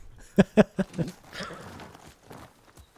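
Four distinct horse hoof clops in quick even rhythm in the video game Ghost of Tsushima, then fading softer steps and faint background noise.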